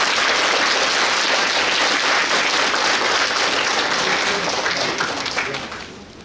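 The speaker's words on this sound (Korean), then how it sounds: "지금까지 열정적으로 강의해주신 우동기 위원장님께 다시 한번 큰 박수 부탁드립니다." Audience applause at the close of a lecture by Woo Dong-gi, chairman of the Korean Presidential Committee on Local Era, in Suncheon: steady dense clapping from a full hall, loud throughout and fading toward the end.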